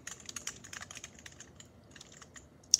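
Typing on a Long John full-size 100% computer keyboard with no switches: quick, light clicks in an irregular run at close range, ending in one sharper, louder keystroke, with no voices.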